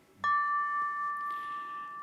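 A single strike on a 3D printed bell gives a clean, bright tone that rings on steadily and slowly fades, heard alone in a quiet room.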